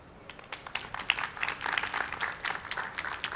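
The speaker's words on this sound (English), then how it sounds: "Let's give Miriam a big round of applause." A conference audience at an industry panel applauds, a moderate burst of many hands clapping heard from a distance with no voices.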